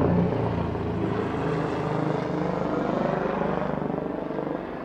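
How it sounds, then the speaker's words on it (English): A steady, rumbling helicopter drone fills the clip, loud and close overhead, its rotor throb continuous with no speech. "This is a great time for a helicopter to come by."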